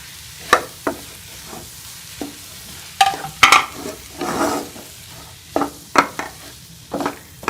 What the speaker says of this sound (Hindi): इसको मिसाले के साथ अच्छी तरह से मिक्स कर लेंगे